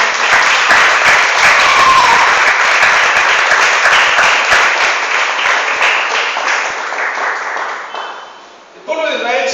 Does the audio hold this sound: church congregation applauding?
yes